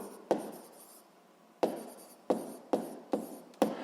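A pen scratches across paper while notes are written by hand, six short close strokes separated by brief pauses.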